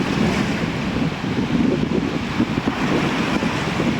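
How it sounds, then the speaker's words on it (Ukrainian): Steady broadband wash of Adriatic Sea waves in Italy with a hiss of rain and wind over it, continuous and fairly loud with no voices. "біля моря, біля Адріатичного моря під дощем"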